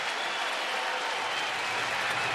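Baseball stadium crowd at a Phillies–Nationals game, a steady dense roar of cheering and clapping from a large audience, loud and continuous throughout with no distinct voices standing out.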